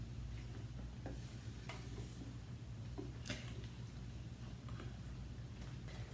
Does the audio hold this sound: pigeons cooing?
no